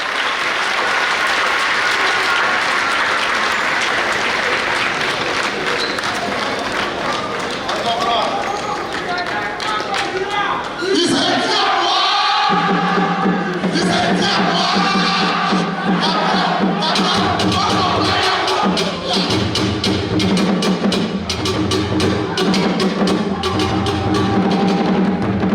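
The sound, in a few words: applause at symposium and book launch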